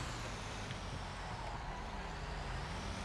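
A fire truck engine rumbles steadily in a video game, a dense, continuous low roar with a faint hiss of air brakes on top, fairly loud and close, with no speech.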